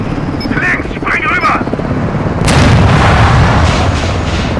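A large explosion in the video game Call of Duty Modern Warfare 2 erupts suddenly midway as a loud, sustained booming roar, following a steady din of battle noise and rotor hum.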